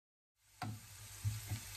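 Onion and garlic fry in hot oil, browning for a tofu dish; after a brief silence a close, soft sizzle rises, punctuated by a few light stirring knocks.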